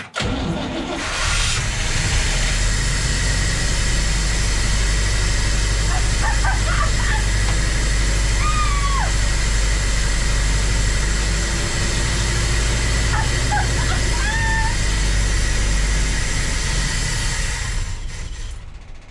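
A car engine cranks, catches and settles into a loud, steady idle close by, with faint chirps over the drone.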